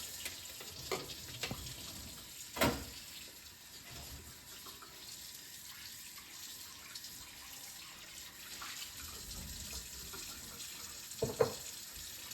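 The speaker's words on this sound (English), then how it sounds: "I'm gonna take this over to the sink and just rinse this off" Tap water runs into a sink with soft splashing as food is rinsed, punctuated by a few louder clunks and splashes.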